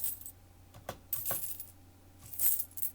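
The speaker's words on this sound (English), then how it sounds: "I was just chucking any loose change just on in my hand or onto the towel" Loose change coins are tossed by hand onto a towel, making soft, muffled clinks scattered across a few seconds, faint and close over a quiet background.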